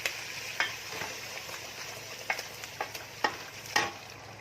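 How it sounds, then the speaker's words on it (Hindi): Fried chicken pieces tipped with their oil into a curry gravy of browned onions in a pan, giving a low steady sizzle broken by several sharp clatters and stirring knocks, close and fairly quiet, with no talking. "अब ये तला हुआ सब चिकन इसमें डाल रही हूँ तेल के साथ।"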